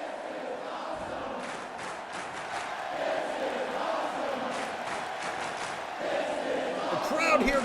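A wrestling video game arena crowd cheers and roars steadily throughout, a broad, moderately loud murmur that swells slightly toward the end, with a voice talking over it.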